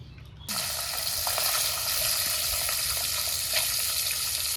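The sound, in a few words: fish frying in hot mustard oil in a wok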